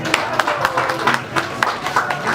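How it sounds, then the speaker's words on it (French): A crowd at an official wedding ceremony at a town hall claps and cheers to welcome a mayor, a steady moderate patter of applause with scattered louder claps and voices mixed in. "Sous vos acclamations"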